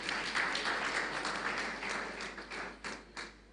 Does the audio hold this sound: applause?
yes